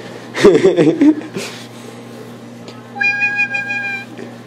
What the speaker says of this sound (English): Best cat in the world.